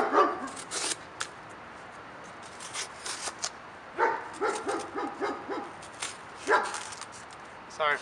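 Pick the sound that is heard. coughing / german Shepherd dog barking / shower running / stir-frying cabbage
german Shepherd dog barking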